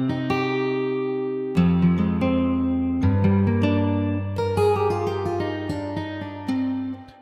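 A beat of sustained chords with sharp percussive hits, played back with the sound source set farther from the microphones for a roomier, more reverberant tone, continuous and fairly loud with no talking.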